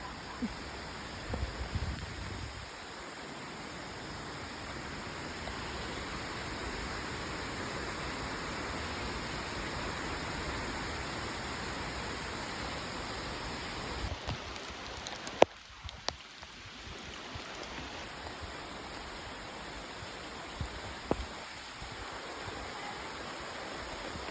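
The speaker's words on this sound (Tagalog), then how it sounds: "So yan guys, dito na tayo sa falls." Imugan Falls pours in a steady, broad rush of falling water, close and continuous, with a few brief knocks and shuffles near the recorder partway through.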